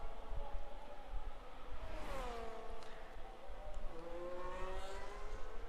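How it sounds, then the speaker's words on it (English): Race car engines in an F1 video game at the Azerbaijan Grand Prix whine and shift pitch as cars pass, faint and distant under steady background noise. "You can hear the realistic sound of actual IRL cars."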